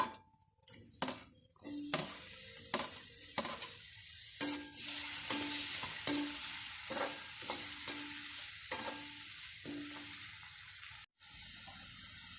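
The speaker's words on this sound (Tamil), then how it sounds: "வெங்காயம் டிரான்ஸ்பரன்ட் ஸ்டேஜுக்கு வர வரைக்கும் வதக்கிக்கோங்க." Onions and tomatoes sautéing in a pan for rava kichadi, a steady close sizzle broken by repeated scraping stirs of the spatula against the pan, with no voices.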